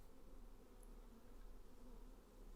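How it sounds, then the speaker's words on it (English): Bees from a hive built into a crack in a cave's stone wall give off a steady, continuous low hum that stays even and unbroken throughout, with no voices present. "There's a beehive in here, built into a crack in the stone wall."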